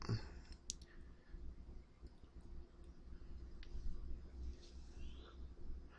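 Sharp, close computer mouse clicks, a single one near the start and a few scattered later, over a quiet room hum, with no talking.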